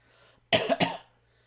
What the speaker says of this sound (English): that cough tells me I need to stop talking